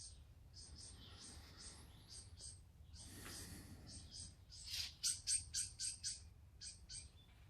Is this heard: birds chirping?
yes